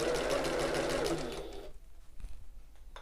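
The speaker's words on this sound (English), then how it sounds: "And a bit of back stitching at the top here." A sewing machine runs steadily as it back-stitches the top of a tote bag, a close, continuous whirring buzz that stops partway through, leaving quiet handling noise.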